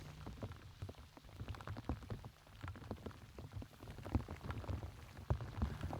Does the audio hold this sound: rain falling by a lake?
yes